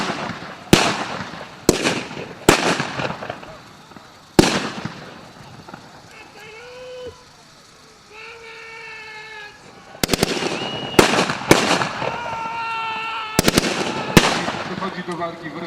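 Mauser rifles fire at a WWI battle reenactment in Orneta, sharp cracking shots ringing out singly and in quick clusters, loud and nearby, with a stretch of voices calling out between the volleys.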